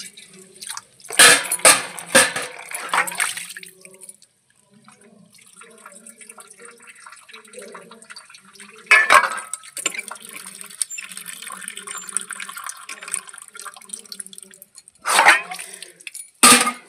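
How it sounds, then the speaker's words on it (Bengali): A thin stream of water trickling after dishes are washed, heard as a few bursts of splashing and running water between quieter dripping stretches, close by. "জলও চলে গেছে, এই সরু জল পড়ছে।"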